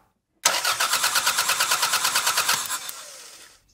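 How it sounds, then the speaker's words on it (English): A car engine cranks with a rapid, rhythmic chugging from the starter for about three seconds, loud and close, then winds down without catching. "I'm going to get someone to crank the engine"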